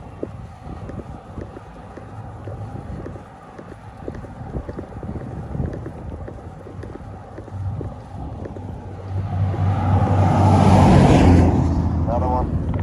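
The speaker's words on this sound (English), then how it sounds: "Four-wheeler trailer." A vehicle towing a four-wheeler trailer passes on a Nevada road, its engine and tire rumble building from a distant approach to a loud, close rush near the end, with wind buffeting throughout.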